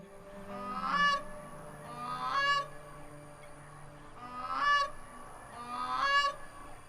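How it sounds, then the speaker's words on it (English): Blue cranes or grey crowned cranes call in the morning with loud, trumpeting honks, four separate calls arriving in pairs a second or two apart over quiet background, moderately near. "I've woken up to the sound of cranes in the morning"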